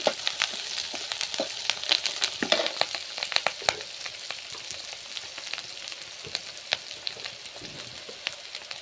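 Green chillies and curry leaves frying in oil in a pan, a continuous sizzle with sharp popping crackles scattered throughout, close and without voices.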